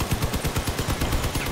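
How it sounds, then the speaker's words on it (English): Rapid, evenly spaced cannon shots from vehicles in the game Crossout fire in a steady volley of sharp booms at a moderate distance, with no talking. "Oop, cannons are sniping at us."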